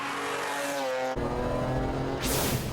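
A BMW car engine revs hard while drifting, then a loud skidding roar takes over with a high tire squeal rising near the end, close and continuous.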